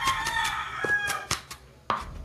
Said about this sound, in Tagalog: Huwag kang maingay kang manok at tantarin kita eh!